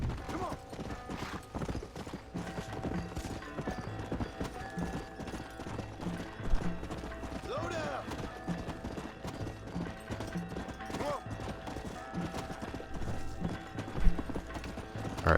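Horse hooves clip-clop steadily in Red Dead Redemption, a continuous trotting rhythm over game ambience with an occasional faint whinny, moderately loud throughout.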